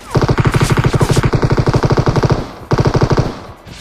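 Sustained automatic gunfire in a shooter video game, rapid even bursts of loud shots firing continuously, a brief break, then another short burst.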